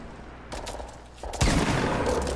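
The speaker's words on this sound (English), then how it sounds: "Headshot it with a pump." A pump shotgun fires in the Fortnite video game, sounding as a short cluster of loud gunfire blasts that thickens into a dense, sustained burst at the end, with no voices over it.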